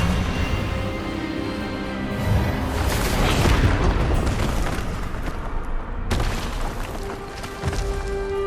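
A disarming spell goes off in the Hogwarts Legacy video game as a loud, dense magical blast with booming, crackling bursts that swell and then cut sharply before fading into lighter rumbling.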